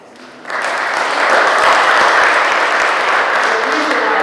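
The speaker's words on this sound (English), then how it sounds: "let's give him a round of applause" Audience applause for a speaker at an urbanism event, a dense burst of clapping that rises quickly and holds steady and loud with no talk over it.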